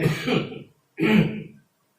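Two separate throat-clearing bursts from one person, close and fairly loud, each lasting under a second with a short silent gap between them and no speech around them.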